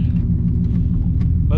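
Ford Taurus sleeper idling with a heavy low rumble before a nitrous test run, engine steady and close with voices talking over it.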